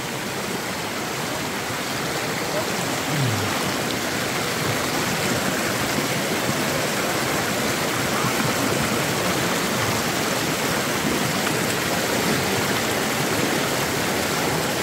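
A jungle stream rushes over stones in a steady, close, broadband wash of water that stays even and unbroken throughout, with no voices.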